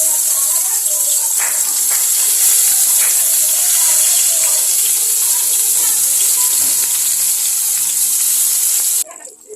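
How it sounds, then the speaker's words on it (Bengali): Long-cut eggplant pieces frying in hot oil in a pan, a steady close sizzle and hiss with faint clinks, cutting off abruptly near the end. "আমার বেগুন অর্ধেকটা ভাজা হয়ে গেছে, বাকিগুলো ভেজে নিচ্ছি।"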